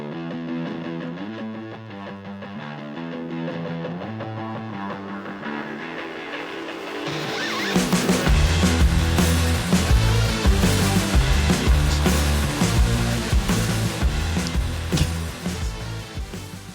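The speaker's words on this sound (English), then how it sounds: "every song with intro music that sounds like this" Instrumental intro music begins with a repeating melodic figure, then swells into a louder, fuller passage with heavy distorted tones and driving bass.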